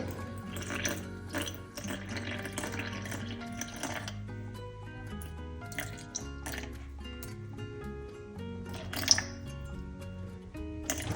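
Water trickles and splashes into a jar of sourdough starter for seeded bread, with soft dripping and liquid sounds over a faint musical background.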